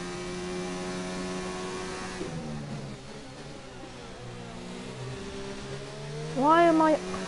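An F1 race car engine in a video game career-mode race in Bahrain hums at steady pitch, then drops lower and fluctuates before a short rising rev burst near the end. The engine stays fairly quiet throughout.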